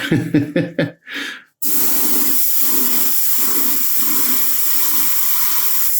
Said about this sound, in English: I've got some Mr. Color clear blue in my airbrush, and let's start layering this on